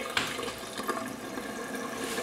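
Water runs from a tap in a steady, close hiss, continuous and fairly loud throughout with no voices.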